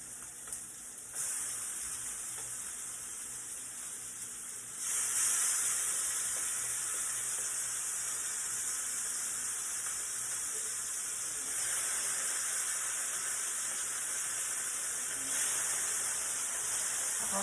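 Bacon frying in a pan for a big breakfast, a soft, steady hiss and sizzle that swells louder partway through, fairly quiet and with no talk.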